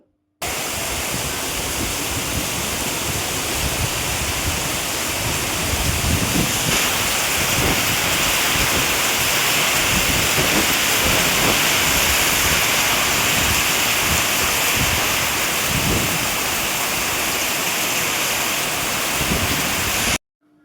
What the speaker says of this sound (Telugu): ఈ గాలికి అసలు వెళ్ళలేము వాటర్ చాలా ఎక్కువ అయిపోతూ ఉన్నాయి సౌండ్ చూసారా ఎంత భయంకరంగా వస్తుందో